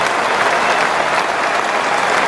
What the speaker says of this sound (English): Greeted with a cheer.